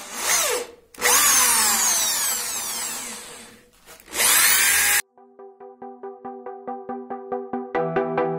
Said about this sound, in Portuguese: E a gente precisa deixar essa broca atravessar um pouco mais o rebaixo